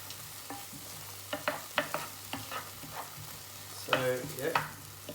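Food fries on a stovetop pan turned up to its highest heat, a low steady sizzle broken by a series of scraping stirring strokes that grow louder and busier near the end, with no voices.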